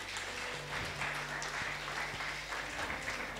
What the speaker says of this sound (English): Let's give God another mighty hand clap.